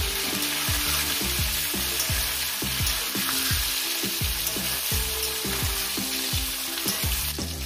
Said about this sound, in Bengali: এঁচোড়গুলো আমি আলুর মতনই লাল লাল করে ভেজে নেব।